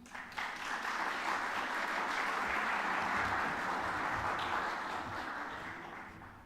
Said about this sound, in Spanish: Así que la recibimos con un aplauso.